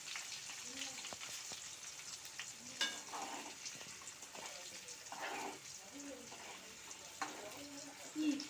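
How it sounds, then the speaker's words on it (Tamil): Food sizzling and frying in hot oil, a soft crackling hiss with occasional stirring and spatter pops, fairly quiet and close. "ரொம்ப இப்போ நம்ம பொரியட்டும்."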